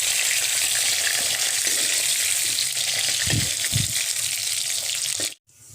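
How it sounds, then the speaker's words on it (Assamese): Potato and pointed gourd pieces frying in oil, a loud steady sizzle that runs continuously, with a couple of brief stirring knocks near the end before it cuts off abruptly. "এতিয়া মই আলু আৰু পটলখিনি ফ্ৰাই কৰি ল'ম।"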